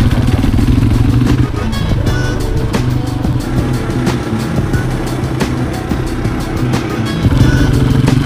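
A motorcycle engine runs steadily close by while stopped on a ride through Kosovo, a constant loud rumble with light mechanical clatter throughout and no speech.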